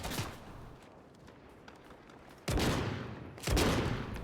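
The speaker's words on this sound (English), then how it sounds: "Oh, somebody's shooting at me" Gunfire from Fortnite Chapter 3 on Nintendo Switch, fired at the player: loud overlapping shots in rapid fusillades, with two sharp heavy bursts toward the end and no talk.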